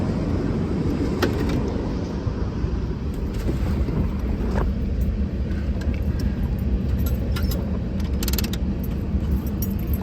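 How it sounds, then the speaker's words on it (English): A 1968 Chevrolet Camaro convertible with a 396 V8 and four-speed runs at a steady idle, a dense continuous low rumble close by with faint mechanical clicks and no talking. "We'll start this car up for you."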